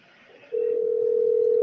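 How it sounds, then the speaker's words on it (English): A phone call's ringing tone comes in as a steady, loud, unbroken pitch after a soft muffled murmur of room noise, and it holds to the end. "You guys can hear that ringing?"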